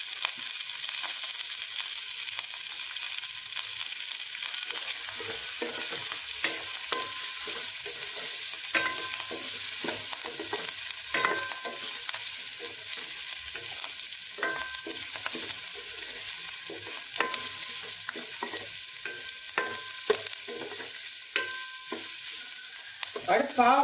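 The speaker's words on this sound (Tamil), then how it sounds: "வெங்காயம் வதங்கிடுச்சு. இப்போ கருவேப்பிலை போட்டுக்கலாம் கொஞ்சம்." Curry leaves frying with sautéed onions for a bitter gourd kulambu: a steady, fairly faint crackling sizzle with frequent stirring scrapes and taps throughout.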